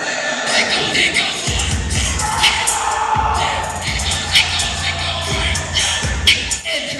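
Wrestling crowd at a PPW event, a dense roar of cheering with deep rhythmic chanting that swells and dips steadily throughout.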